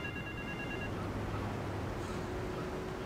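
Phone ringing in Grand Theft Auto 3, a brief electronic ring tone in the first second over steady game ambience and background noise.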